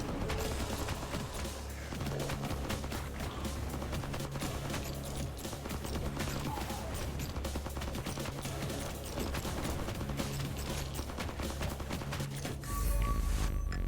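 Sustained SMG fire in the survival shooter FatalZone, with dense, rapid, continuous bursts and a thumping low pulse underneath that run loud and unbroken for the whole stretch, and no talk.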